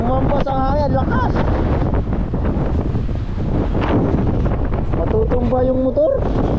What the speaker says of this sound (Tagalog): Umampas ang hangin, lakas!